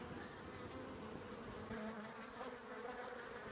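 Honey bees buzz in a dense, continuous hum during installation into a hive, steady and moderately close with no voices.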